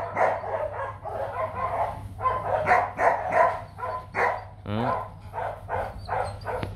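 Rottweiler dogs shut inside a kennel bark in repeated loud bursts, with some yips and whimpers between them, while a person talks over the noise and a low steady hum runs underneath.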